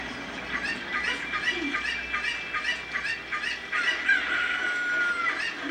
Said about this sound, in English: Oh no, chicken!